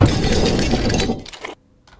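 A designed effect of ice specks breaking away from a glacier: a dense, crackling, glassy shattering burst that thins out and cuts off abruptly after about a second and a half, leaving a faint tail.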